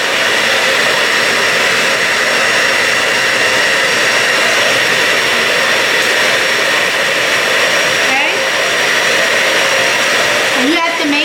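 An electric mixer beats cream cheese with vanilla extract for a no-bake cheesecake, giving a loud, steady, close whirring drone that holds throughout with slight pitch wobbles near the end.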